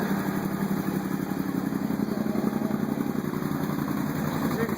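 A four-wheeler with a buzz exhaust idles with a steady, throbbing rumble, even and continuous at close range with no revving.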